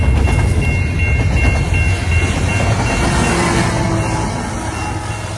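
A loud, steady rumble of a long freight train rolling past close by, with continuous wheel noise and no voices.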